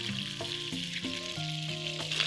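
Mughlai kebabs sizzle in hot oil in a home kitchen, a continuous bright hiss running under loud melodic background music with stepped tones.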